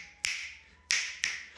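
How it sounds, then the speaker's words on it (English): Three sharp finger snaps, close and fairly loud, play part of a clave rhythm with uneven spacing, alone without any talk. "that's a very famous rhythm. It's known as the clave."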